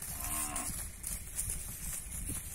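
Cattle mooing, a mother cow and her calf on a farm, with low drawn-out calls over steady outdoor background noise and no speech.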